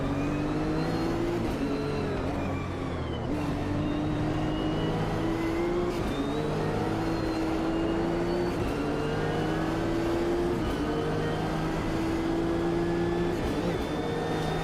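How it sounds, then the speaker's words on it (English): A Nissan GT-R engine in a racing video game drones steadily and loudly, its pitch climbing through repeated gear changes with short dips between shifts, continuous for the whole stretch. "Sounds absolutely rubbish, but all GTRs kind of do, so I guess that's accurate."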